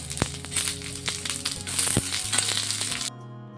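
Onion roasting in a pan for a drumstick bhaji, a steady crackling sizzle with scraping and stirring clatter, close and fairly even, ending abruptly into a low hum.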